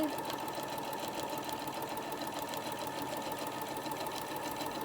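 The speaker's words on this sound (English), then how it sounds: "make sure I sew this as straight as I can" A sewing machine stitches a tote bag with coordinating thread, its close, steady motor whir and rapid needle chatter running continuously without pause.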